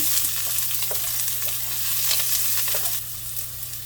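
Garlic and onions sauté in a pan for a Filipino beetroot and coconut milk dish, a steady close sizzle with occasional soft scrapes of stirring and a low constant hum beneath.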